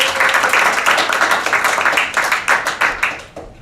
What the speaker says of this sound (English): Give yourselves a round of applause for showing your solidarity with Julian Assange.